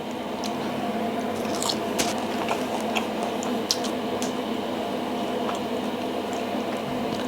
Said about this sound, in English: Let's have a bit of that paratha. Flaky, crispy paratha.